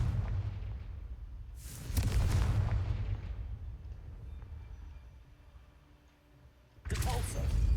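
A Confringo fire spell goes off in Hogwarts Legacy as two deep, booming blasts with rumbling tails, one near the start and another near the end, over a low continuous game soundscape.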